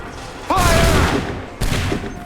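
Soldiers fire a musket volley in Assassin's Creed III, a loud ragged crack of massed shots followed by a second burst, with a shouted voice over the first blast.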